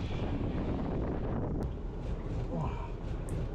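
Strong blizzard wind roars steadily against the microphone at a winter hot-tent campsite, a constant rushing buffet with brief gusty flutters, loud and close throughout.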